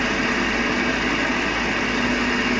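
A Vevor 600 mini lathe turns steadily at about 1,000 RPM, giving a constant, close motor whine and hum with a bright high-pitched tone and no break in level from start to finish.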